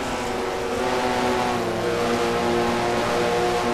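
A Pontiac stock car in the NNSCRA Mello Yello racing series, heard from inside the car, holds a loud, steady engine drone at high revs throughout a race, with a dense buzzing whine and no talk.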